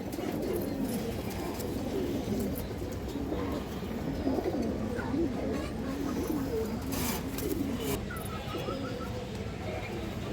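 A female Muslidom pigeon coos among other pigeons in a loft, soft, low cooing running steadily under a constant background hum, fairly faint and moderately distant.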